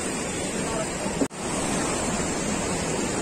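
A small river on the Kedarnath trek rushes in a steady, full hiss of flowing water, loud and constant with one momentary dropout.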